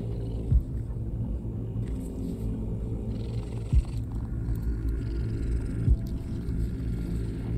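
Close, steady purring of a cat in the video game Mortal Shell, a continuous low rumbling with a few soft thumps, heard alone.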